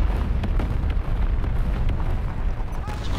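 A 122 mm cannon shot from an ISU-122 tank destroyer in War Thunder Mobile, a loud, heavy boom with a sustained low-frequency rumble throughout, under game noise.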